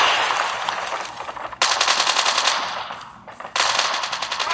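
Rapid bursts of automatic machine gun fire ring out in Call of Duty gameplay, two long loud strings separated by a brief pause, with no speech.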